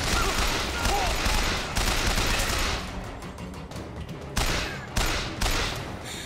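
Rapid bursts of automatic gunfire in the video game BioShock Infinite, a dense rattling fusillade that pauses briefly midway before further bursts, loud and close, with little talk over it.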